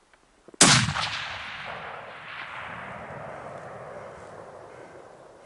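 A single loud, close rifle shot at a bull elk during a Colorado hunt, a sharp crack followed by a long rolling echo that fades over several seconds, with no talk.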